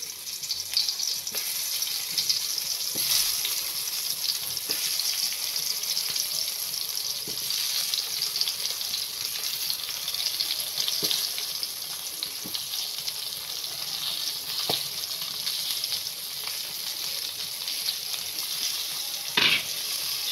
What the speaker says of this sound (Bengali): এবার তেল গরম হওয়ার পর আমি বড়াগুলো দিয়ে দিচ্ছি